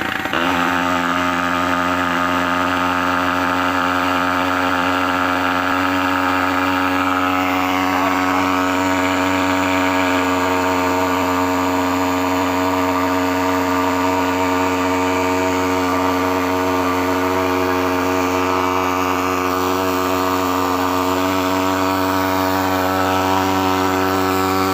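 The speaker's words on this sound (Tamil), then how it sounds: "ஸ்டார்ட் பண்ணுறோம், இன்ஜினை ஓட விட்டுட்டு கொஞ்சம் ஒரு 5 செகண்ட் வெயிட் பண்ணி" An engine runs steadily after being started, giving a loud, even mechanical drone that holds unchanged for the whole stretch with no voices.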